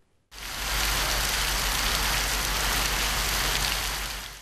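A heavy rain shower pours onto the streets of Erzurum, a dense, steady hiss of rain on the surface that starts abruptly and stays loud and even, with no voices.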